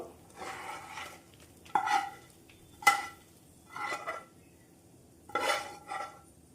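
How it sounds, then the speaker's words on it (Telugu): Thick chana dal chikki syrup is poured and scraped onto a ghee-greased plate, giving several separate metallic scrapes and clinks of a utensil against the plate with quiet gaps between them. "ముందుగా మనం నెయ్యి రాసుకున్న ప్లేట్లోకి ఇదంతా వేసేసుకుందాం"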